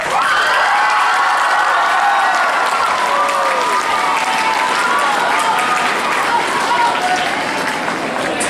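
An audience at a student governor candidate speech event claps loudly and continuously, a full, dense wall of applause with cheering and shouting voices riding over it.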